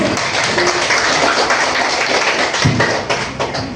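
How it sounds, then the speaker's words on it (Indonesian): Applause from a seminar audience for all the groups, a dense wash of clapping hands, loud and steady throughout with a few sharper taps near the end. "Kita juga minta aplaus buat semua kelompok"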